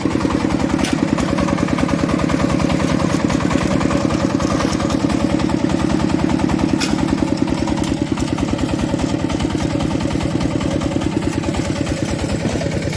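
A walk-behind tractor fitted with an improved tiller cutter runs steadily while weeding between rows of pumpkins, its engine a loud, even, rapid chugging drone held throughout with no talk.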